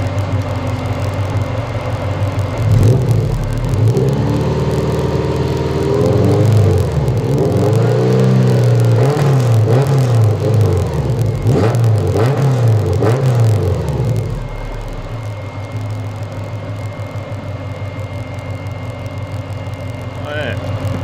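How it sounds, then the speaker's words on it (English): A Subaru EJ25 engine in a sandrail idles, then is blipped and revved up and down in a rising and falling sweep before settling back to a steady idle, with someone talking over it. "So let's give the engine a blip"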